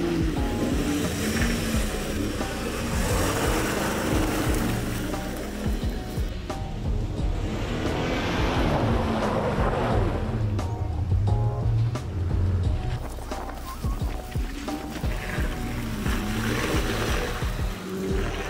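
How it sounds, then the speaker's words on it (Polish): A V8-powered Jeep drives an off-road trail turning muddy at the Niepołomice OFFroadLOVERS charity event, its engine giving a continuous deep rumble with swelling revs and some mechanical clatter, close and loud, with no voices. "O V8-ki w Jeepach, no niestety, no nie da się tego podrobić w żaden sposób, żadnym innym samochodem. Dźwięk jest niesamowity."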